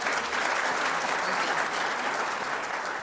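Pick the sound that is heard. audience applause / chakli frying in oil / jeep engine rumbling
audience applause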